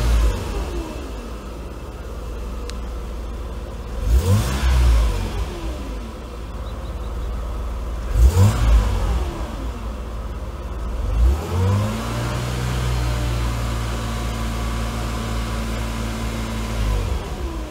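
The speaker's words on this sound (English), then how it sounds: "I can hear that exhaust leak at the EGR." A Mercedes-Benz W124 300E engine with an exhaust leak at the EGR revs up three times in loud, separate surges, each climbing and falling away before settling back to a steady idle hum.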